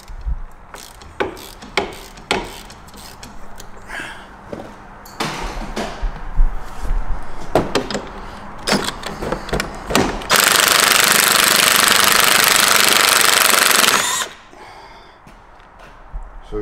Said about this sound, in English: No, we're gonna have to use the big ratchet.